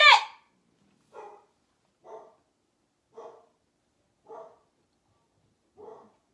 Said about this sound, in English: Something's got my dog stirred up.